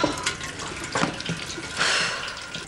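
Water runs steadily from a tap with splashing and gurgling, close by, and the flow surges briefly near the end; no one speaks.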